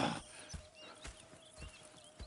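A horse in the video game Red Dead Redemption 2 clip-clops at a slow walk, its hoofbeats soft and evenly spaced, with faint birdsong and a quiet steady hum in the background.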